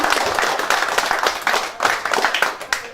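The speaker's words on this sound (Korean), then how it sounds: "힘찬 박수로 맞아주시기 바랍니다." Applause from a seated audience at a regional education association's monthly meeting, welcoming a provincial council candidate in Jeonbuk; steady, dense clapping fills the room, with slight fluctuations and some voices mixed in.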